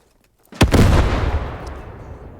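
A 1 kg Gammon grenade, the British WWII infantry bomb, is thrown in a video game and goes off after a brief quiet moment, a single loud, close blast followed by a long rumbling decay.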